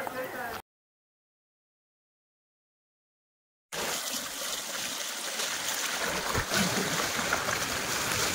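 Water flows steadily from the outlet of a full village lake, heard as a continuous close rushing wash that follows a few seconds of silence.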